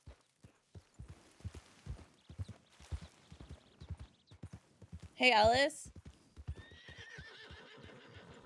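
Horse hooves clip-clopping at a steady walking rhythm in a western video game, with a loud, sharp whinny midway and a more distant neigh after, while someone talks over it.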